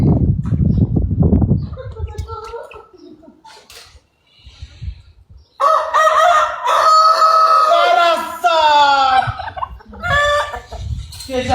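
Rooster crowing and hens clucking in a farmyard, a long loud crow rising and falling mid-clip with scattered clucks around it, a voice heard briefly at the start.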